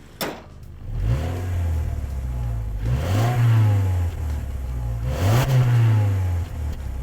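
A 2020 Subaru Outback's 2.4-liter turbo engine revs up loudly in three repeated surges, each pitch rising and then falling back, with no talking.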